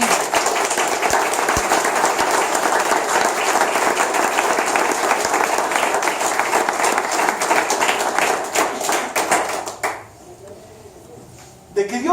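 A church congregation breaks into dense, sustained applause for about ten seconds before it abruptly fades, leaving a quieter stretch with a little movement at the end.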